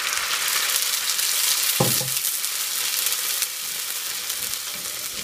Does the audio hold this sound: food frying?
yes